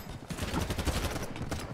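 Rapid video game gunfire crackles in a dense, steady burst, loud and continuous throughout the short stretch, with no talking over it.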